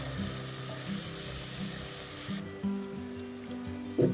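Ginger, garlic and green chili paste frying with tomato in a pan, a steady close sizzle with occasional soft stirring scrapes and a louder clack near the end.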